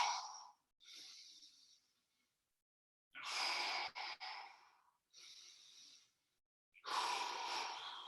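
Slow, deep breaths taken during a guided floor exercise, with long inhales and exhales set apart by short pauses, close and clear and without any talking.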